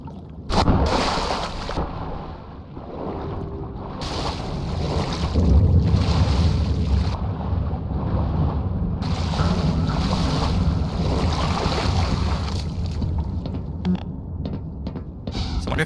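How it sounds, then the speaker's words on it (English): Water sloshing and lapping in the video game Black Mesa, a loud, continuous rushing wash with wind-like noise that swells and dips over about fifteen seconds, with brief sharp cuts and no speech. "Oh, this is water."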